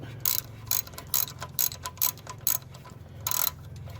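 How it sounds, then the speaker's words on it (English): A ratchet wrench clicks in quick bursts while loosening engine bolts on the way to a timing chain, the sharp metallic ticks coming in short irregular runs, close and fairly loud, with no talk. "So we got to remove all of these bolts, or at least loosen these to the point where"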